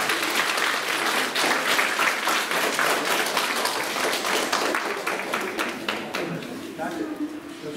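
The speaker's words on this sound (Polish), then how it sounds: "Wielkie brawa dla nich." An audience at a children's song festival in Nowe Miasto nad Wartą applauds young singers, with individual claps standing out in the dense clapping that thins toward the end as a voice starts speaking.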